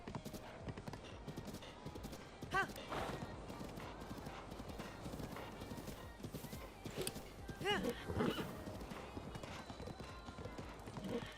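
Horse hooves clip-clop rhythmically in the video game Zelda: Breath of the Wild, with a couple of brief whinnies rising above the fairly quiet, steady gait.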